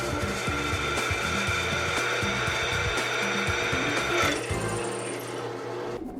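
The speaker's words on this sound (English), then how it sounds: "Now it's time to drill." Drilling holes in a wind generator flywheel: a continuous whirring power-tool grind with irregular chattering, loud and close, easing off near the end, with no voices.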